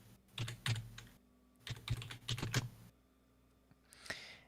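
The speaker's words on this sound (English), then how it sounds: "So while you're typing that up." Bursts of clicky typing on a computer keyboard, close and fairly clear, with short pauses between runs of keystrokes and a brief shuffling sound near the end.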